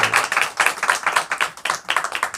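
Church congregation at a Friday service clapping in a fast, steady rhythm, loud and close, filling the whole moment with dense repeated claps.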